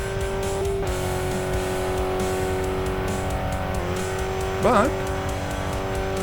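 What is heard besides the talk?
car engine driving at high speed in a video game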